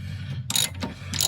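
A small wrench works a coilover on a Mazda RX-7, giving a few quick, close metallic ratcheting bursts over low background hum.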